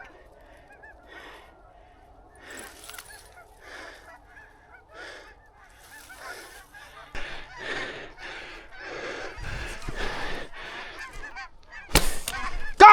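Geese honk repeatedly during a bowhunt for ducks and geese, starting faint and distant, then growing louder and more crowded as the calls come closer, with some voices nearby.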